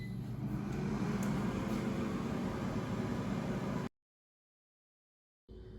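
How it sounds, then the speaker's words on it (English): An air fryer running with frozen pizza inside, giving a steady, even fan whir and airflow hiss that drops to silence and then starts up again. "put it back in the air fryer and let it finish cooking"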